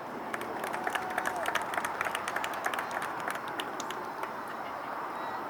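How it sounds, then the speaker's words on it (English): Parents from Somerville applaud a goal at a youth football match: scattered, moderate clapping from a small crowd standing outdoors, steady for several seconds and fading slightly toward the end. "A nice round of applause from the Somerville parents for the goal scored."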